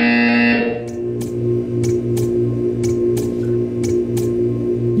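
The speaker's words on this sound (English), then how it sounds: "You will hear a buzzer." A buzzer in the video game Portal 2 sounds as a steady electronic drone with a low pulsing hum, overlaid by a regular series of short, sharp clicks or beeps at roughly half-second intervals, loud and close with no talk.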